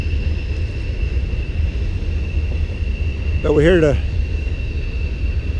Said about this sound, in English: Sorry about the noise, there's a train going by us.